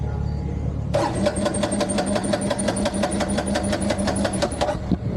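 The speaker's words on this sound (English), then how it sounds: "she won't start unless I give throttle like this." Kawasaki KLR motorcycle engine cranking and catching with added throttle, a loud rapid starter chatter that fires into a steady running beat lasting a few seconds, then cuts off.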